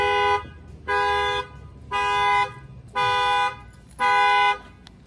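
A 2020 Ram 1500 pickup's factory car alarm, set off by a shock sensor, blares in five evenly spaced, loud honking bursts, each about half a second long with short gaps between.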